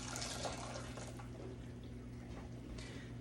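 Hot water being poured from a measuring cup into a bowl of powdered Jell-O gelatin mix, a steady close splashing and trickling stream that keeps going throughout without a pause.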